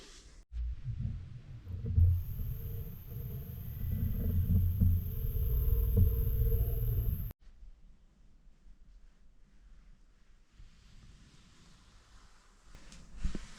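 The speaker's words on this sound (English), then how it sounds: "let's see if we can polish it up with these two polishing wheels" Two polishing wheels buff the bevel of a restored bushcraft knife, a loud steady motor whine and grinding hum lasting several seconds before cutting off to quieter room noise.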